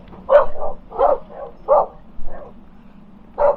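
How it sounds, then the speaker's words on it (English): A dog on a canal boat barks in a series of six or so sharp, close barks with short pauses between them, over a faint low background hum. "wildlife there, in the shape of a dog on a boat, as you can obviously hear"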